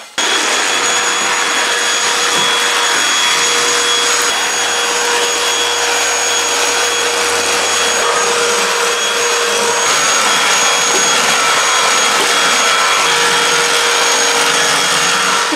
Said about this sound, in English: And while that's soaking, I'm going to hoover.